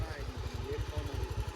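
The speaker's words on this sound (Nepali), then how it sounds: "डबल लोड त यस्तो मजाले तानिरहेको छ मेरो बाइकले" A Bajaj Avenger motorcycle carrying a double load throbs with a steady, close, low engine pulse on a monsoon ride from Kathmandu toward Dhorpatan, its rhythmic thumping continuous throughout.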